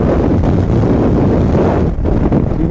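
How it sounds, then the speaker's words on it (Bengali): Strong wind roars and buffets the microphone of a motorbike on a hot highway ride from Kolkata toward North Bengal near Farakka, a loud, continuous rushing that fills the whole moment with no voices. "বিভৎস হাওয়া দিচ্ছে"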